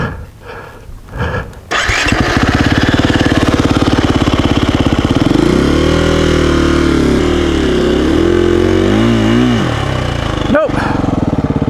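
A KTM dirt bike engine fires up and revs hard while climbing a rocky hill, a loud close sputtering roar that rises and falls in pitch as the rear wheel spins.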